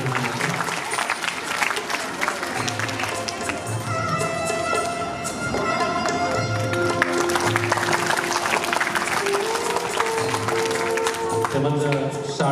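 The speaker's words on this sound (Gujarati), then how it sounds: "ખૂબ બધી તાળીઓ કરી રહ્યા છે" An audience at a school parents' meeting held on Guru Purnima applauds steadily throughout, with music and a voice on a loudspeaker heard alongside the clapping.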